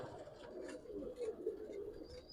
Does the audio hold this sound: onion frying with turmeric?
no